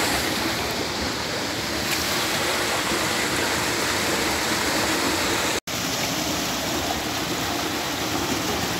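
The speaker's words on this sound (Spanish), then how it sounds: "Vean qué hermosura que tenemos aquí, un ojo de agua, un río subterráneo." Spring water pours from an underground river at Acatempan in a dense, constant rushing wash, loud and close, with a single brief dropout partway through.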